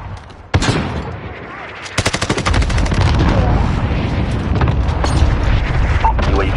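Loud Call of Duty Warzone combat with a heavy boom early on, then rapid bursts of automatic gunfire that give way to dense, continuous battle noise and explosions.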